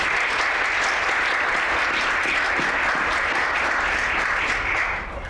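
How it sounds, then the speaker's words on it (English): An audience at a Chicago health policy forum applauds Chicago Public School students, a dense, sustained round of clapping that holds steady and fades slightly at the end. "Can we get a round of applause for our CPS students?"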